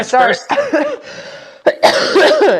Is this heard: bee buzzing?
no